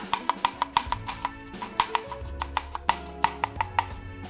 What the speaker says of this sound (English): Now I'm gonna slice the core up into thin strips as well.